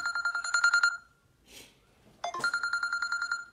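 Phone ringtone of an incoming call, a repeating electronic trill in two bursts separated by a short pause with a faint rustle, loud and close, no voices.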